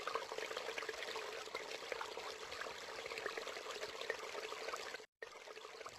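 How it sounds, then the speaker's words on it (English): Water runs from a leaking household sink tap in a steady, faint trickle that continues almost unbroken, with a brief gap near the end and no voices. "The sink is dripping and wasting water resources."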